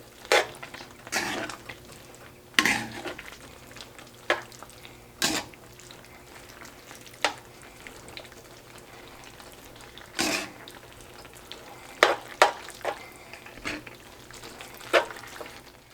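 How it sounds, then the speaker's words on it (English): Spaghetti being stirred in a pan for Haitian Creole-style breakfast spaghetti, with scattered utensil scrapes and clinks against the pan over a low, steady sizzle, no talking. "I'm just gonna put some spaghetti in here. Try to stir that in here."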